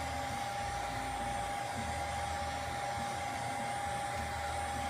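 Heat gun blowing hot air to loosen a strip, a steady close whooshing hiss with a constant motor whine, alone without talk.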